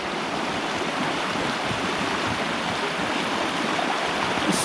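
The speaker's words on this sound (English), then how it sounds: "I love the sound on a rushing river" Rushing river water at a mudlarking spot, a steady, full, close-up roar of flowing water without a break.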